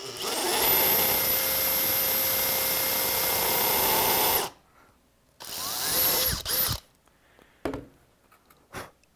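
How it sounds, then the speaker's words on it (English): A power drill drives screws through a bumper bracket into a steel angle upright, whining loud and steady for about four seconds before stopping, then firing in several short, sharp bursts separated by near silence. "So I drill a little slower on the top one because I know that the drill is going to hit the upright of the angle."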